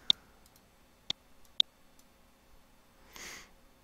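Computer mouse clicks, three crisp isolated clicks spaced about half a second to a second apart in a quiet room, followed by a soft brief rustle.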